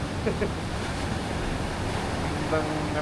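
Strong high-tide surf rolls and crashes continuously on a beach, with wind rushing across the microphone and a few faint distant voices.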